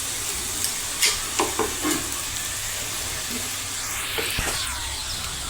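Bottle gourd thepla flatbread frying in oil on a griddle, a constant close sizzle with a few soft taps and scrapes as it is moved and turned.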